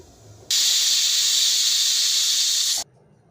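A kitchen pressure cooker cooking vegetables in a little water lets out one loud, steady hissing whistle of escaping steam. It starts abruptly, holds for about two seconds, then cuts off sharply into quiet.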